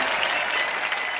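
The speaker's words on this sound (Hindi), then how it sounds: "आप सबकी जोरदार तालियों के बीच स्वागत करना चाहूंगा।" A TV studio audience at a Hindi comedy talk show bursts into dense, even applause, loud and sustained across the brief moment.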